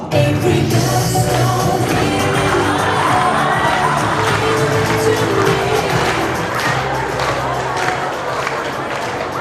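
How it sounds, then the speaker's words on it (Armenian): An audience at a school last-bell ceremony applauds and cheers, a loud, dense and unbroken roar of clapping and shouting voices that fills the whole stretch. "Իսկ հիմա բուռն ծափարություններով դիմավորենք"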